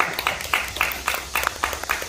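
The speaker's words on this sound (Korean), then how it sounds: "이때도 박수 좀 치시겠어요." At a Miryang Arirang learning session held at a tourist site in Miryang, a small crowd claps in a regular beat, about four sharp, distinct claps per second, moderately loud over a quiet room.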